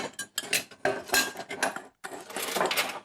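Yogurt and flour whisked together in a bowl, a close series of quick clinking, scraping strokes in uneven bursts with a short pause midway, no voices.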